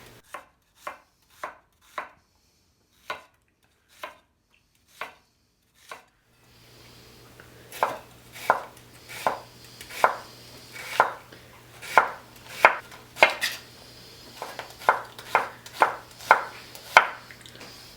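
A knife chops onions on a board, first in slow, widely spaced strokes, then in a quicker steady run of crisp chops over a low background hum, with no voices.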